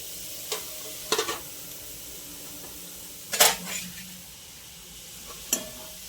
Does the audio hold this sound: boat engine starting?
no